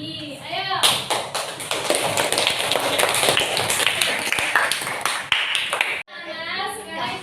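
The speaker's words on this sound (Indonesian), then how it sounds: "sekarang kita beri aplaus dulu untuk kita semua karena sudah belajar pada hari ini" A classroom of children applauds together in a long burst of dense, steady clapping, with the teacher's voice heard before and after.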